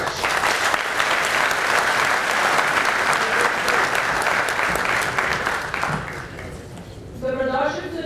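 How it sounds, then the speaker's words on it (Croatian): Sustained applause from a large audience at a Serbian Radical Party rally, loud and continuous for most of the stretch, then thinning out as a voice begins speaking near the end. "molim vas da još jednim velikim aplauzom iskažemo poštovanje i zahvalnost našem predsjedniku"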